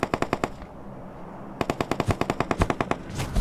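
Machine gun fire in the PUBG Mobile video game, loud rapid bursts of evenly spaced shots, a short volley, a pause, then a longer string of rapid reports.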